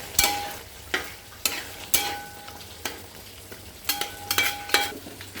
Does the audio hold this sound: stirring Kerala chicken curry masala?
yes